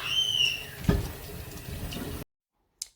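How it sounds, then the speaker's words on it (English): Water from a running tap splashes steadily over a watermelon being washed in a sink, a close, continuous hiss and patter that cuts off abruptly and is followed by a brief clack. "Wash it with water on that running water."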